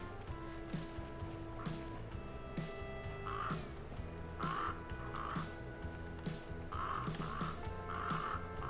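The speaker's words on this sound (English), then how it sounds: "I don't want to scare away all the crows." Crows in The Flame in the Flood video game give repeated harsh caws in small bursts, moderately close, over a low ambient game soundscape with soft croaking tones and no speech.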